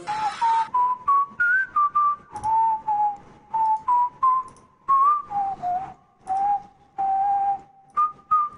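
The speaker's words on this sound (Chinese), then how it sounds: "第一次听我吹口哨。" A single person whistles a melodic tune in short phrases with brief gaps between notes, close and clear, with no other sounds behind it.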